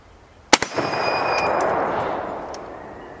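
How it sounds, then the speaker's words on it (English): An M1 Garand rifle fires a single loud, sharp shot outdoors that rolls away in a long echo, followed by a few faint, brief high metallic clicks. "Man, that Garand ping was cool."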